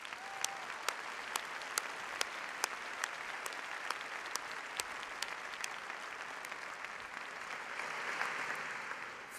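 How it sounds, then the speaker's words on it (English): Steady applause from a graduation ceremony crowd, dense clapping with a few sharper individual claps standing out, continuing throughout at an even level. "Please join me in a round of applause for the graduates."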